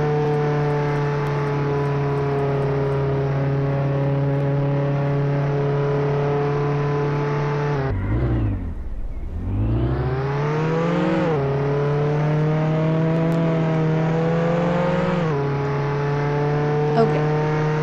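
Engine of a car in a video game drones steadily at high revs, dips sharply as the car slows around the middle, then climbs back up and holds a loud, continuous whine to the end.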